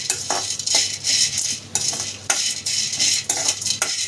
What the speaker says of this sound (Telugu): లవంగాలు, యాలక్కాయలు బాగా ఫ్రై చేసుకోవాలి.